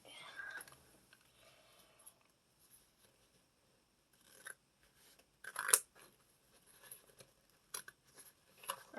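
Scissors snipping through paper pages while drawing, soft intermittent cuts and rustles at close range, quiet overall with a few sharper crisp snips.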